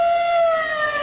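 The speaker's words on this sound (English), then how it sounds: "Long Pan jumps into his police car through the streets of Chinatown, his siren screaming." A police car siren wails through city streets in Chinatown in an old 1940 radio drama, one sustained high, steady tone held loud and unbroken throughout.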